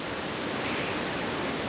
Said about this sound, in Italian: impressionante la forza del mare